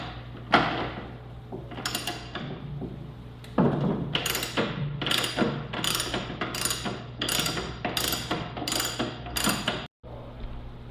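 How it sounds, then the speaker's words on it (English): Ratchet wrench removing the steering stem nut from a crashed sportbike's front end, with a long run of about eight steady, evenly spaced clicking strokes, close and clear with no talk. "we're also going to remove the steering stem nut"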